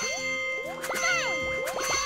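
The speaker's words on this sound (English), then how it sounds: "Ring that bell." Bright, ringing bell chimes from the video game Kirby's Epic Yarn sound in a quick cluster of clear metallic dings, with no talking.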